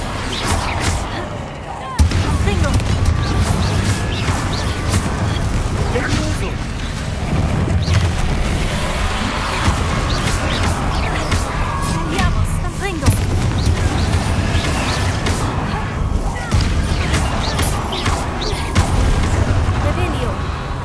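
Confringo spell blasts in the game Hogwarts Legacy boom out repeatedly over a loud, continuous din of combat noise, with someone talking over much of it.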